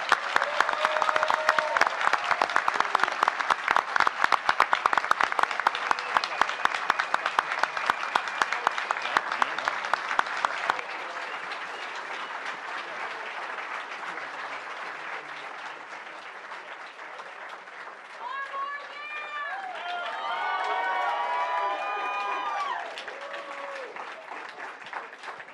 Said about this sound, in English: let's give a hearty round of applause for both candidates